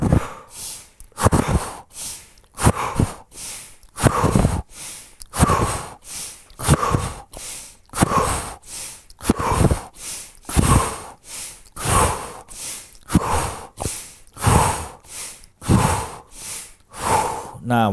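Repeated deep inhaling and exhaling breaths during a guided chi breathing exercise, steady rhythmic cycles of air drawn in and pushed out, close and fairly loud with no talking.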